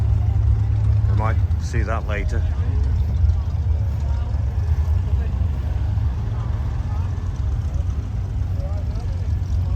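A vintage tractor engine at a steam and vintage rally, set up for tractor pulling, runs as a loud, steady low rumble throughout, with people talking nearby over it.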